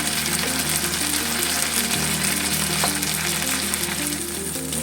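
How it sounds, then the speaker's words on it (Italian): Tuna slices sizzle and fry steadily in a hot pan, a continuous loud crackling hiss running throughout with a low hum underneath. "Adesso che la padella è calda andiamo col tonno."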